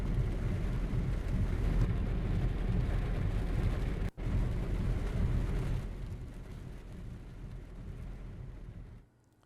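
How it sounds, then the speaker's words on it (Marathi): An unseasonal thunderstorm with lightning over Satara, heard as a heavy, continuous rumbling roar of rain and wind that drops briefly, returns, then gradually softens before fading out. "आज सातारा शहरासह काही तालुक्यांमध्ये अवकाळी पावसानं हजेरी लावलेली आणि यामध्ये काही ठिकाणी वीज पडली"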